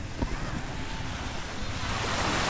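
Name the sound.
ocean waves on the sea shore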